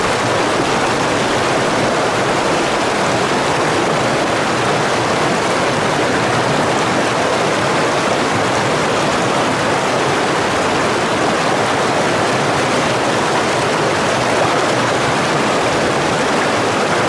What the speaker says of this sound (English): From that loud water